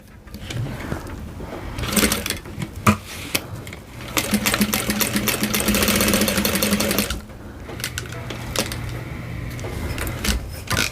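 A sewing machine stitching the seam of a bowler bag, running in short bursts with one long steady whirring run in the middle, separated by clicks and handling noises.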